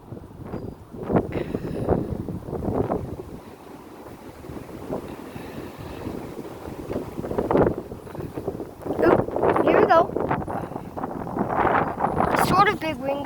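Strong wind gusts during a windstorm in Ronkonkoma, New York, roaring and buffeting the microphone in surges that rise and fall, with someone talking through much of it.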